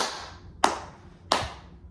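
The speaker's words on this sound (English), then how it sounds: "Just stop clapping." Two sharp hand claps, well apart and fairly close, each a crisp broadband snap followed by a short decaying tail over a quiet room background.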